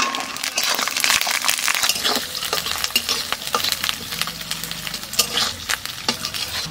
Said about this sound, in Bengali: তেলের উপর দিয়ে দেবো জিরে আর কালো জিরে